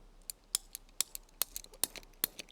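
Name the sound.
cutting up bunya nuts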